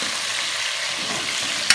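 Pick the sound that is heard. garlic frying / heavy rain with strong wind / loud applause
garlic frying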